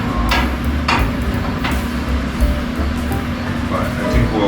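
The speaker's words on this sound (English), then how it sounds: "The little hammer and dolly, I got it to sit a little tighter" A small hammer strikes sheet metal against a dolly while shaping the driver-side bed fender of a 1949 Jeep Willys pickup. Three or four sharp metallic hits are spaced about a second apart over a steady background hum in a workshop.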